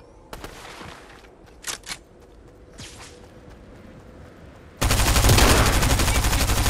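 Rapid automatic gunfire in the video game Fortnite: a few scattered single shots, then a loud sustained burst of fast repeating fire near the end.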